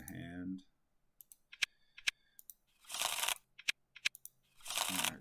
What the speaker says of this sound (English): Shuffling the hand.